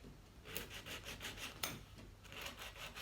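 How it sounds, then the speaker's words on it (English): Sandpaper rubs around the outer edge of a shiny plastic light in quick, rhythmic back-and-forth strokes. The rasping is close and soft and repeats about twice a second, with one sharper scrape partway through. "with a little bit of sandpaper I'm just going around the very,"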